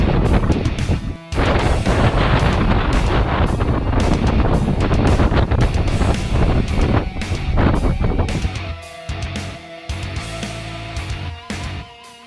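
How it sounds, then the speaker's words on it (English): Strong wind on a mountain in New Zealand's North Island roars steadily against the microphone, loud and buffeting with brief drops and gusts, with no voices over it. "a heck of a lot of wind, and it tries to blow you right off the mountain"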